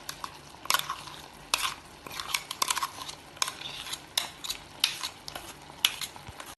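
A spoon scrapes and clatters around a pan of Kasaragod-style jackfruit and chicken curry, with irregular stirring strokes and soft sizzling underneath, close and with no talk.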